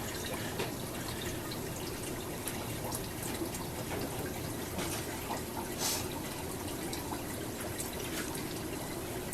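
Water runs steadily during an aquarium water change in a fish room, a constant close hiss and trickle with faint drips and no talk.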